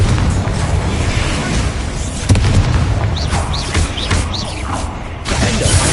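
Confringo fire spell blasts in Hogwarts Legacy, a dense, loud rumbling game mix with a sharp impact near the middle and several whooshing magical bursts afterward, no voices heard.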